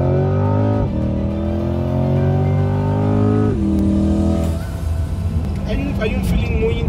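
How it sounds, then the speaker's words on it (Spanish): A 2020 Chevrolet Corvette engine revs loud and close, its note climbing in two long pulls with a drop between them, then settling into a rough rumble at the end. "El sonido del motor es fantástico"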